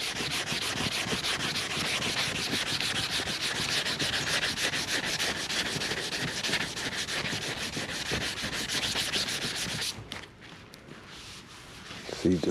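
Primed fiberglass filler on a cracked Chevy dashboard pad is sanded flat by hand in rapid, rhythmic scratchy rubbing strokes, close and continuous, stopping near the end where faint handling noises follow.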